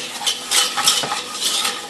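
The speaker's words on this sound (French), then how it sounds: "avec un fouet, mélangez le tout" Flour and oil whisked together in a saucepan for a lasagne bolognese sauce base, a steady run of light metallic scraping and clicking strokes against the pan, close and alone.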